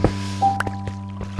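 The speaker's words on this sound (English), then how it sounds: "I hear water." Water drips in a Minecraft cave, a few soft wet squishes and plinks over a steady droning game ambience with faint tones.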